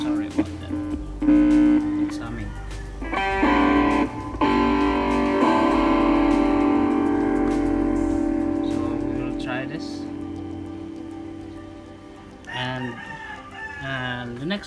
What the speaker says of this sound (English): So that's the sound of the guitar in a distortion mode.